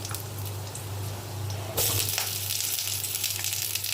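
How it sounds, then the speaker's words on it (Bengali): Long-cut potato pieces fry in hot oil that was already used for frying. The close, steady sizzle jumps louder partway through and carries on alone. "লাল লাল করে আলুগুলো ভেজে নেব"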